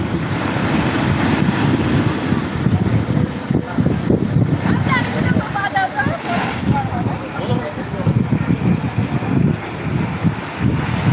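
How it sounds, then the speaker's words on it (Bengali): Big sea waves roll in and break at Digha beach, a loud, continuous surging roar with strong wind buffeting the microphone while someone talks over it. "আসছে বড় বড় ঢেউ আসছে বড় বড় ঢেউ আসছে"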